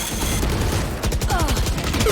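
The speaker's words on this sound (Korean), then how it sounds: "와 이거 총소리 왜 이래 이거?" Rapid bursts of automatic gunfire in a video game rattle continuously and loudly, with dense overlapping shots and a brief pause partway through.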